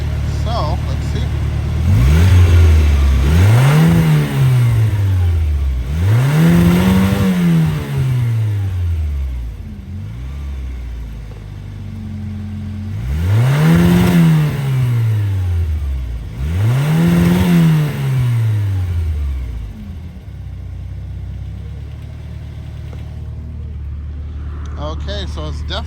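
A Starquest vehicle engine revs repeatedly from a steady idle, four strong rising-and-falling rev sweeps in two pairs, loud and close, with someone speaking intermittently over the idle.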